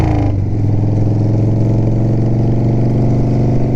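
Harley-Davidson FXR motorcycle engine running steadily up close, a loud continuous low rumble with a brief rise in revs at the start, no voices.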